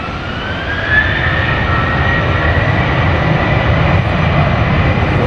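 Southwest airliner at Dallas Love Field, steady broad jet engine roar with a rising whine, loud and continuous throughout as it powers up for takeoff.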